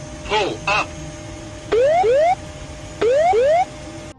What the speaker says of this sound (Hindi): कॉकपिट में अलार्म बजने लगा, train ahead. Terrain, pull up.